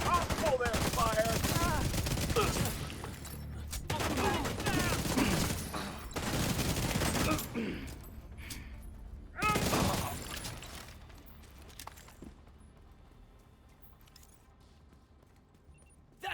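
Bursts of rapid video-game gunfire, loud and dense in several volleys over the first ten seconds, then thinning out to quieter scattered shots and fading ambience.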